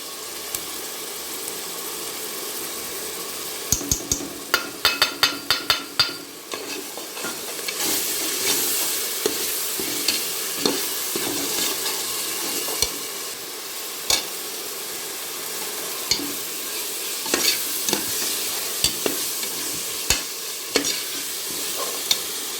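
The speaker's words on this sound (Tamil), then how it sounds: "பட்டை கிராம்பு ஏலக்காய் இங்கே இப்போ போடுறேன் பாருங்க" Whole spices (cinnamon, cloves and cardamom) sizzling in hot fat in a large pot for a 1 kg mushroom biryani, with steady frying crackle, stirring scrapes and sharp clinks of a ladle against the vessel.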